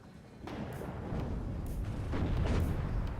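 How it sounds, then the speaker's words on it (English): Tank cannon fire rumbles through a battle in the WARNO strategy game, several deep booms and blasts overlapping in a dense, continuous low roar of combat with no voices. "those tanks are firing at the munitions rather than the enemy tanks"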